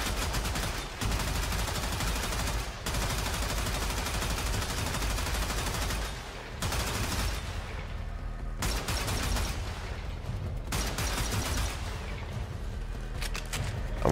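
Loud, sustained gunfire from target practice in the video game Warframe, with dense rapid bursts and a few short pauses between volleys, and no talking.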